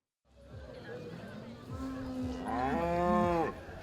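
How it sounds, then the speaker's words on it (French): Cattle at a show-and-sale market in Tavannes, Switzerland, one cow giving a long rising moo up close over low crowd murmur in a livestock hall. "Ces vaches ruminent paisiblement avant de passer devant le public et un jury."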